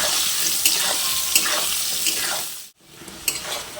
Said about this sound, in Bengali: ওই তেলেই আমি আলুগুলো দিয়ে ভেজে নেব